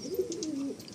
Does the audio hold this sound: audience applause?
no